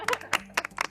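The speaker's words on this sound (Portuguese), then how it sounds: "Não merecem palmas?" A small group claps briefly, a handful of uneven, distinct slaps spread across a second, fairly close and sparse rather than a full ovation.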